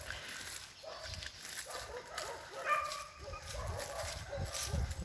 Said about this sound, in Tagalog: Tatahulan yung mga aso.